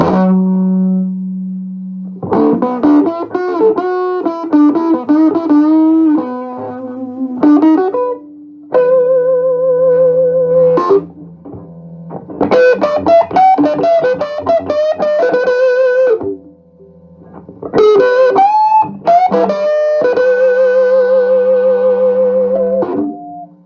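An electric guitar plays through a 1975 Fender Super Reverb amp at volume 10 with treble almost off and bass near 4, loud distorted chords and sustained notes in phrases with brief pauses and a low hum underneath.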